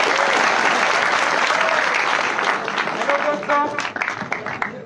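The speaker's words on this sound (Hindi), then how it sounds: "अरे शानदार ताली बजाओ।" A hall audience at a student award ceremony breaks into dense, sustained applause that stays steady, then thins into scattered claps with faint murmuring near the end.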